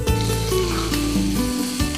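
Curry leaves and turmeric frying in hot oil for millet pulihora, a loud steady sizzle close up that continues without a break, with a faint low hum underneath.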